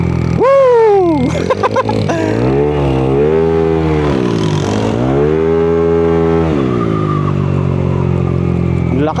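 Yamaha Sniper motorcycle with a built-up engine revving hard and close, with sharp repeated throttle blips and sustained rising and falling high-pitched whine, loud throughout, and a voice briefly audible under it.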